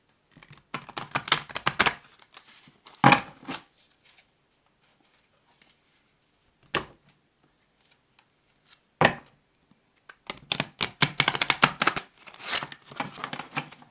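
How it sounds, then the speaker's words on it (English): Tarot cards shuffled by hand in a series of crisp, riffling bursts: a long flurry, a short snap, two brief flicks, then another extended shuffle, with quiet pauses between. "cards are flying everywhere now."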